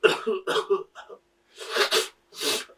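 Several short, voiced cough-like bursts from a close voice, a quick cluster followed by two longer, harsher coughs, sounding like someone imitating a cough.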